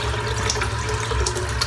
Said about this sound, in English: I'll just go with whatever comes out the tap